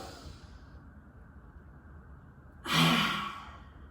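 During a yoga flow, a single deep breath out comes as a short, breathy sigh, close and clear, after a few seconds of quiet room tone.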